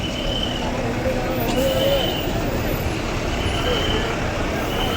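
A KSRTC Power Plus bus at Kempegowda bus stand at night, heard as a steady, loud engine and traffic rumble that runs the whole time, with people talking in the crowded terminal.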